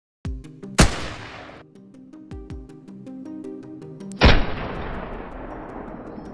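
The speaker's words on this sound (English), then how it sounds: "One shot rang out, taking the beast down before it could cause any damage." A hunter's rifle shots at a wild boar in a valley near farmland: two sharp, loud reports a few seconds apart, the first followed by a short echoing tail and the second by a long rolling reverberation, with no speech.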